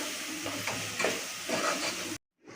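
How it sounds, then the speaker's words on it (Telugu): Mutton being mixed with salt and chili powder, a close, steady wet stirring and hissing scrape that cuts off abruptly near the end before resuming faintly. "ఇప్పుడు మంచిగా మిక్స్ చేసుకోవాలండి. ఉప్పు కారం అనేది మిక్స్ అయ్యేలాగా మిక్స్ చేసుకోవాలి."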